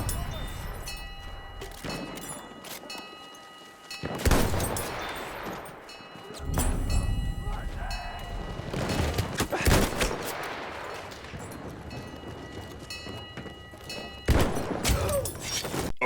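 Battlefield 1 combat with sniper rifles such as the Mosin-Nagant M91 and Vetterli: irregular bursts of gunfire and heavy thuds rise and fall amid steady battlefield noise, with game voices mixed in.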